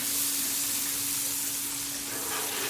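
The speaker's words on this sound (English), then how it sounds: "And there goes some onions" Onions sizzling on a Blackstone griddle after steaks, a close, steady hiss of frying with a faint constant hum beneath, with no voices.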